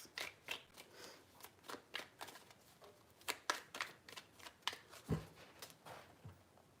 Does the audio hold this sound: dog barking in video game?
no